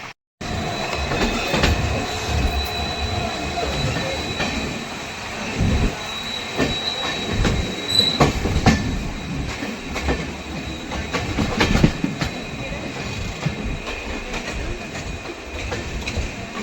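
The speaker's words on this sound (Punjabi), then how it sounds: "ਕਿੰਨੀ ਤੇਜ਼ ਟ੍ਰੇਨ ਲੰਗੀ" A train rushes past close by, a loud continuous rumble with rattling wheels and metallic squeals building and fading over several seconds.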